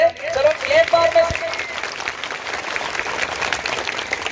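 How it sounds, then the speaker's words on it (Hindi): An audience at an Independence Day celebration claps steadily for several seconds, a dense burst of applause that fades slightly, with a voice speaking over the start. "प्लीज ताली बजा दीजिए सभी लोग सर के लिए"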